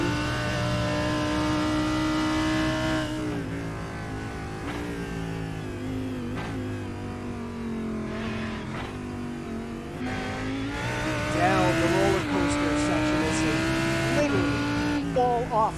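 A Lamborghini GT race car at Bathurst in a racing video game, heard from on board, its engine wailing steadily through rising and falling revs with brief shift dips, loud and continuous, with a commentator talking over it.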